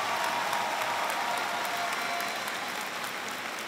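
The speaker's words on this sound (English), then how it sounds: "give the staff a round of applause" A graduation audience applauds the staff, a broad, steady wash of many hands clapping that holds strong and eases slightly toward the end.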